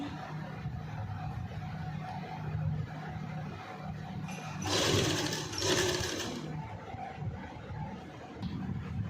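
Sewing machine stitching lace onto a dupatta, with two short bursts of rapid mechanical whirring close by rising out of a quiet room background.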